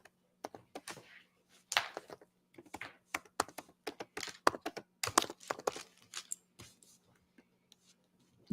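Computer keyboard typing in irregular bursts of clicks and clacks, close and fairly quiet, with brief pauses between runs of keystrokes and a faint steady hum underneath.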